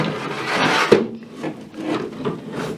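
Plastic engine vanity cover being pulled up and lifted off a Bentley Bentayga W12, a close scraping, rubbing rustle with a single sharp pop as it releases, then continued shuffling handling.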